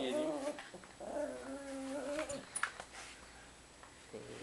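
A dog whimpers softly in a high, wavering whine, a couple of drawn-out plaintive cries followed by short yips and snuffles, quiet and close indoors.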